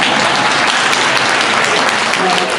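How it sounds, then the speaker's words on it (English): Applause at a Democratic club meeting after a talk: loud, dense, close clapping from the room, steady throughout the short burst. "You can applaud if you want to."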